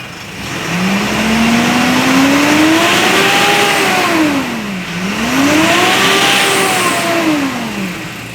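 A 2015 Mitsubishi Montero engine is revved hard twice at close range. Each time the pitch climbs smoothly, holds briefly, then falls back as the engine settles, loud and with no voices over it.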